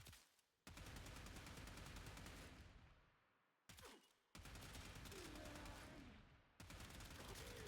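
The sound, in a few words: gunfire shooting an enemy in a video game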